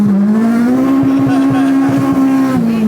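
A K24-engined Integra Type-R on a street-tired dyno pull, the engine droning loud and close at a steady high pitch that climbs slightly, then eases off near the end.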